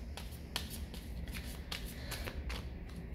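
Deck of cards being shuffled, a rapid series of crisp riffling bursts repeating at a steady pace, close and fairly quiet, with no talking.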